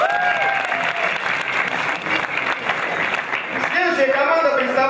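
A live audience claps loudly and steadily for a KVN comedy team at an Open League KVN round-of-sixteen game, a dense sustained wash of applause with a voice announcing over it toward the end.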